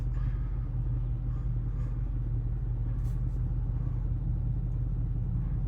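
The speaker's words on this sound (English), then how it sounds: "Engine idles extremely smooth" A 2016 Ram 5500 bucket truck with an Altec AT37G boom idles smoothly, a deep, steady, even engine rumble held close and unchanging throughout.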